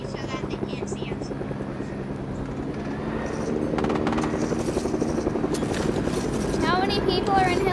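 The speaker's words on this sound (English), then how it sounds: "I hear 2 helicopters." Video game helicopter rotors chop steadily, close and loud, layered with game sounds and people talking over the top.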